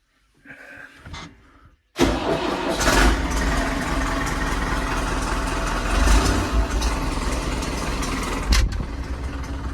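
A New Holland TD85D tractor's diesel engine cranks and catches at about two seconds, then settles into a loud, steady idle close by, with a brief rev near the end; faint rustling comes before the start.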